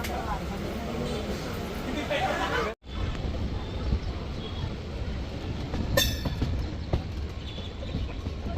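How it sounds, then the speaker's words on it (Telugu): A Secunderabad–Lingampally train moves along with a steady low rumble and clacking wheels, heard from inside the coach, while passengers talk over it and a sharp short squeal cuts in partway through. "అప్పుడు ట్రైన్ వెళ్ళిపోతుంది"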